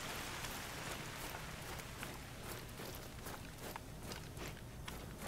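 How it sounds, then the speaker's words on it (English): Steady, soft video game rain in theHunter: Call of the Wild patters throughout, with faint quick footsteps running underneath. "as much noise when I'm running in the rain as I do without it raining"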